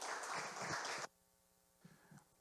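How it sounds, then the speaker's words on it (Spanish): Applause from an audience at an academic talk fills the first second as a dense, loud wash of clapping, then cuts off abruptly to near silence with a couple of faint thumps. "Le damos un muy fuerte aplauso"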